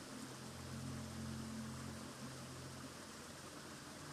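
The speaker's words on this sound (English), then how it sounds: "allow the sounds of the waterfall to continue to soothe your soul" Continuous broadband rushing of a gentle waterfall, steady and fairly faint throughout, with a soft low hum briefly underneath and no voices.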